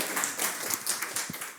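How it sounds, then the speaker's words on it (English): Audience applause after a conference talk: a brief burst of many hands clapping at moderate volume, dense and uneven, with no speech over it. "I don't know why I'm clapping for myself"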